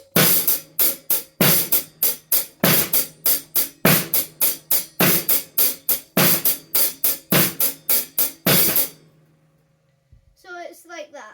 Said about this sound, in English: we're still going to hit the hi-hat, but on 2 and 4 we're going to hit the snare